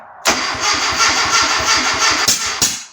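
A classic Mini's small engine cranks and sputters loudly, the starter churning in rapid pulses with a couple of sharp pops, never quite catching.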